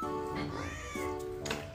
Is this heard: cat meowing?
yes